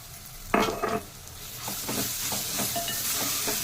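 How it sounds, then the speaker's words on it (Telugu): Grated raw mango frying in a pan, a steady soft sizzle with a few scraping stirs of a spoon near the start, continuous and close with no talking. "తురిమిన మామిడి, కొంచెం ఫ్రై కావాలి"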